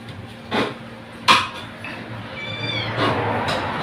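A small kitten cries out after being stepped on in a home kitchen during party food preparation, a sharp brief squeal among clinks and knocks of dishes and utensils, followed by a thin high whine.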